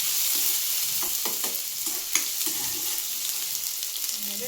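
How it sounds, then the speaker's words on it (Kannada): Ginger garlic paste fries in hot oil for a North Karnataka brinjal ennegai curry, a steady close sizzle with soft scraping stirs of a spoon in the pan and no talk. "ಶುಂಠಿ ಬೆಳ್ಳುಳ್ಳಿ ಪೇಸ್ಟ್ ಹಾಕ್ತೀವಿ ನೋಡ್ರಿ. ಎಣ್ಣೆಗೆ ಫ್ರೈ ಮಾಡಿ."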